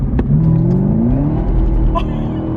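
A 2019 Camaro ZL1 1LE accelerates hard from a roll in first gear, its engine note climbing steadily in pitch, loud and close, with no talking over it.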